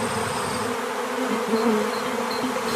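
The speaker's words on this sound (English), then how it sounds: "the bees started coming out of the hive very, very quickly" Honeybees pour out of a hive in a dense, continuous buzzing drone, loud and close, with individual bees whining briefly past over the steady hum.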